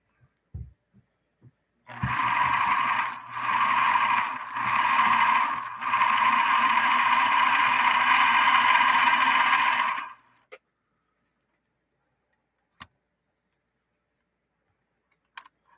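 A Bernina Minimatic 707 sewing machine stitches a 3-point zigzag in one steady run of about eight seconds, close and clear, with two short pauses near the start. A few soft clicks and taps come before and after, and nobody speaks.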